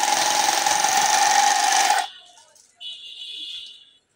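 A handheld bag-sewing machine stitching a sack runs loud and steady for about two seconds, then cuts off; a brief thinner whine follows after a short pause.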